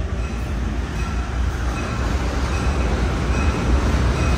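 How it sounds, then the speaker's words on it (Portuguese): A train rumbles past nearby, a steady, loud rolling roar of wheels on rails lasting throughout. "Trem passando."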